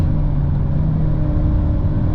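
A 2022 Seat Ibiza FR engine hums and pulls under light throttle through a corner, a steady low in-cabin drone, moderately loud and alone.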